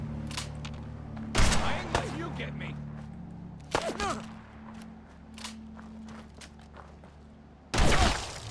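Gunfire in Fallout 4 comes in a few sharp, loud bursts with scattered shots between them, set over a steady game background hum while a person talks now and then.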